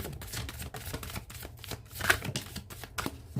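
A deck of tarot cards is shuffled close by, giving rapid, rhythmic riffling and flicking bursts with no voices over them.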